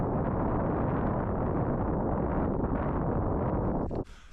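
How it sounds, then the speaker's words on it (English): Cold night wind on a snowy winter mountain, a steady roaring gust buffeting the microphone close up, broad and unbroken until it drops off sharply just before the end. "The wind's been picking up back and forth"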